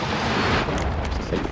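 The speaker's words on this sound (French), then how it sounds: "J'envoie une Pas grenade de thermique." Thermite grenade thrown in the video game Apex Legends, a loud, dense burst of roaring, crackling noise that fills the short clip and then thins slightly, with no speech over it.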